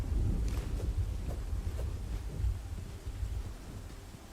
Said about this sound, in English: It's raining, and that is super helpful for this.